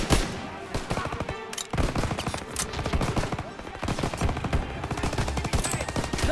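Incendiary rounds fire in a Call of Duty WW2 battle as dense, rapid machine-gun bursts, loud and continuous with only a brief lull partway through.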